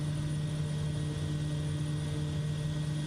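During takeoff in Microsoft Flight Simulator 2024, an airplane engine drones with a steady tonal hum, holding an even level and heard alone.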